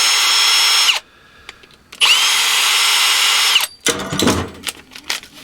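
Loud cordless power drill whirring in two long bursts as it backs screws out of the rear of a microwave oven's motor, with a short pause between, followed by clattering and handling of loose metal parts.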